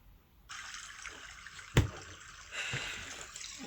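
Water pours into a vessel, a faint hissing stream that starts suddenly, with a brief thump midway and a swelling fill toward the end.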